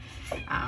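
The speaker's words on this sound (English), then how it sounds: "And I apologize if you hear my cat crying in the background." Indoors, a cat cries out in the background with two short, fairly faint meows in quick succession.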